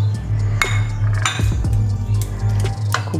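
Chhana, fresh cottage cheese, being stirred in a pan for chanar malai sandesh, with repeated clinks and scrapes of a utensil against the metal over a steady low stove hum.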